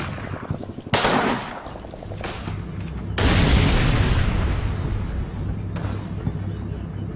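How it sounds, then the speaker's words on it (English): Gunfire and explosions in the Combat Mission Red Thunder war game, including pistol shots: a few sharp booming shots with a long rumbling blast, then noisy battle ambience, loud and without talk. "Somebody's shooting a pistol here."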